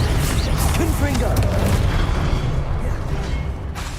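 An explosive Confringo spell in the Hogwarts Legacy video game, with low rumbling booms and mechanical clatter over dense, loud game ambience, fading slightly toward the end, while a voice speaks over it.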